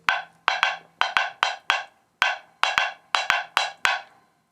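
Sharp, bright wooden clicks of a palitos rumba pattern played on a Van Croft woodblock, about a dozen evenly spaced, resonant strikes in a simple repeating rhythm, close and alone with no voices.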